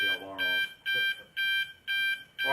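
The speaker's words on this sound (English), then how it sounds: "We'll see if we can get the alarm" A meeting-room alarm sounds in four loud repeating electronic beep bursts, each about half a second long, with a voice talking underneath at the start.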